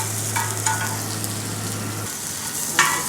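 Onions fry lightly in oil with a soft, even sizzle, close by, with a few brief spoon scrapes against the pan and a low hum that stops partway through.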